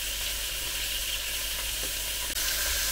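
Chicken pieces sizzle steadily in oil in a Ninja Speedi pot for Spanish chicken with rice, a dense, continuous hiss with a brief soft knock near the end and no voices.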